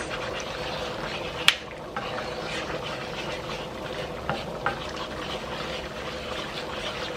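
Roughly three tablespoons of butter being stirred as it cooks in a pan, a soft steady sizzle with light scraping and a few brief clinks from the utensil.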